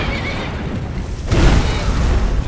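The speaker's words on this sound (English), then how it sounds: "And we've got one more horse." A horse in the video game Skyrim lets out a loud whinny over rumbling low-end game noise, with a heavier burst midway through.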